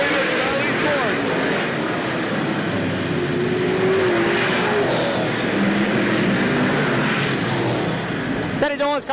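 World of Outlaws late model race cars roar around the Hales Corners track in a 1989 feature, engines droning loud and continuous as cars pass.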